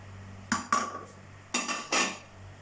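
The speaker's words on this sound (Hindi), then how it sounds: "अब इसमें जो हमने कलेजी धो के रखी थी वो डाल देंगे" Washed beef liver goes into a metal pressure cooker, making four quick clanks and wet scraping thuds in two pairs, close and moderately loud, with no one talking.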